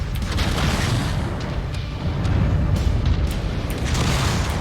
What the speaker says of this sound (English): Shooting my long-range missiles.